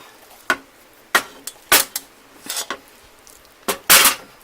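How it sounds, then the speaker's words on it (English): A spatula scrapes and clinks against a pan while rice is stirred for chicken fried rice, in short irregular strokes with quiet gaps, close and fairly loud, no talking. "I'm going to start with a little bit of rice, stir it up, and then I'll add more"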